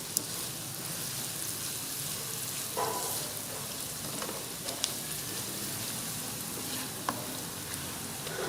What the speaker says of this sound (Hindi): लहसुन को भी जस्ट फ्यू सेकंड्स के लिए ऑयल में फ्राई करें।